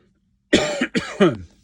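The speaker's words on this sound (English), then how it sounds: "But still fighting this little cough." Three quick coughs in a row, close and fairly sharp, following a moment of silence.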